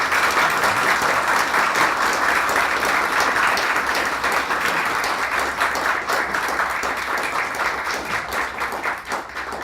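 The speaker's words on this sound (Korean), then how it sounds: "박수로 이렇게 맞이해 주시기 바랍니다" Loud, sustained applause from an audience at a university retirement lecture and commemorative ceremony in Korea, dense clapping from many hands that holds steady for nearly ten seconds and thins slightly toward the end.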